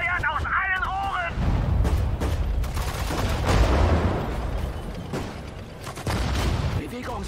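Cannons and small arms fire together in a Sudden Strike 4 battle, a dense barrage of shots and booming blasts rolling on steadily, with a voice speaking briefly near the start.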